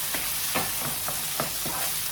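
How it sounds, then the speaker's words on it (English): Cherry tomatoes and onions sauté in a pan, a constant bright sizzle with a handful of sharp scraping stirs at irregular intervals, close and fairly quiet. "we will just saute the cherry tomatoes and onions for about maybe 2 minutes until the onions will be caramelized"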